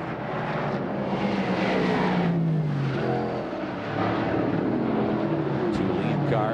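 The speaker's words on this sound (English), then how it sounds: "Two lead cars working their way through the corners here." Dirt track race cars at Super DIRT Week roar through the corners, a steady loud engine drone with sliding pitch sweeps as they pass, under a commentator's voice.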